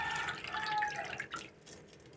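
Neem leaves being washed in water in a kitchen, with soft continuous splashing and trickling close by, fading quieter toward the end, no voices.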